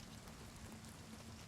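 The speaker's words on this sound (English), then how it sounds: "why is it still playing the rain noise?" Soft, steady hiss of rain looping as a sound effect in a fantasy role-playing game with an indoor scene, faint and continuous with no talk over it.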